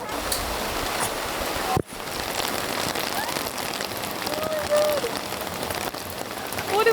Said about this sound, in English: it's gonna start raining really soon